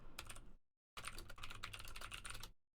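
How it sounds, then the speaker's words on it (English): Up-close computer keyboard clacking in dense bursts of keystrokes, broken by a short silent gap before a longer run of typing, with no voices. "I love when, like, my mouth moves with my keyboard clacking."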